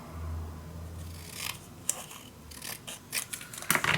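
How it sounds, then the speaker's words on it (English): Scissors cutting paper for a scrapbook mini album: a few crisp snips and rustles, close and clear, building toward a cluster of quick cuts at the end. "just make a mark and a mark right here, and then just cut it off."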